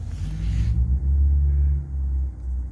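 A 2019 Ram 3500 Cummins truck engine rumbles close by with the hood open, a deep, steady low drone whose pitch wavers slightly as it runs.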